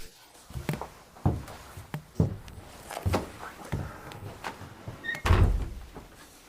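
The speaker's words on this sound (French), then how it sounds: "Cette fichue porte est presque en train de tomber de son emplacement." An old, loose door in an abandoned twelfth-century French castle gives a series of sharp knocks and thuds, irregular and fairly close, as it is worked open, with one heavier bang near the end and no speech.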